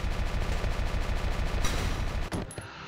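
Rapid gunfire from the tactical war game Valkyria Chronicles, a dense continuous burst of shots running for over two seconds before cutting off, loud and close with no talk over it.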